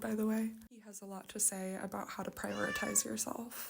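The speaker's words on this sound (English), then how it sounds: "Sorry about my cat's little meows in the background of this podcast episode" A pet cat gives several short meows in the background beneath a person speaking steadily over it, the cries clear but softer than the voice.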